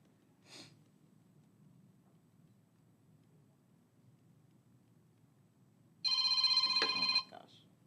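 A mobile phone abruptly rings during a lecture, a short loud electronic ringtone burst lasting about a second against a quiet room hum, after a brief earlier noise.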